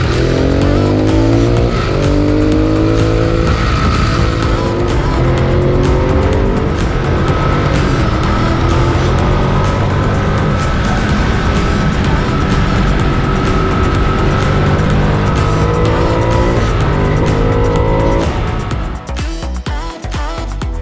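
A motorcycle rides through the Chicago Loop and up Lakeshore Drive, heard from a rider in an AGV K6 helmet as a loud, continuous engine roar rising and falling through gears with rushing wind. It drops away abruptly near the end.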